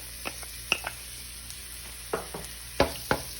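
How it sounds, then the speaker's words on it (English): Onions hit a pan of melted butter for home hibachi, giving faint sizzling with a few quick stirring scrapes and clinks scattered across a quiet background. "I'm going in with another tablespoon of butter. And I'm gonna go in with my onions."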